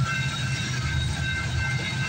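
CPKC manifest freight train 231, with a BNSF unit, rolls past at the Guelph Line crossing in Campbellville, a steady loud rumble of cars with thin high metallic ringing above it.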